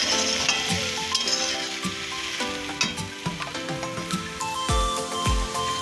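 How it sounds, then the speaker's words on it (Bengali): Raw sour mango pieces cook with jaggery in a pan, 2 kg of each, for a murabba. A spoon stirs with repeated scraping strokes over a steady sizzle, with a few sharper knocks against the pan. "আমগুলো একটু নাড়াচাড়া করে নিয়েছি।"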